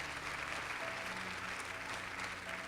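Steady audience applause fills a school district education meeting, dense clapping held at an even level throughout with no voices over it.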